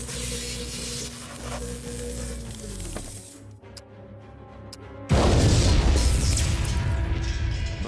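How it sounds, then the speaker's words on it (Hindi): A genetics laboratory blows up: a low rumble and humming give way to a short, quiet lull, then a loud, sudden blast that settles into a crackling, sizzling roar. "भयंकर विस्फोट हुआ"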